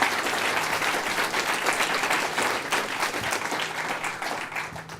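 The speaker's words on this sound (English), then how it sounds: "please give them a big round of applause for it." Conference audience at BazelCon gives a round of applause, a steady dense patter of many hands clapping at moderate volume, slowly tapering near the end.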